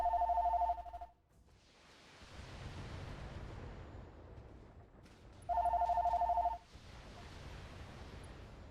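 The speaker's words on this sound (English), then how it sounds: "I'm down in my office and I got a phone call." A telephone rings with an incoming call, two clear bursts of electronic ringing separated by a few seconds of quiet hiss, moderately close.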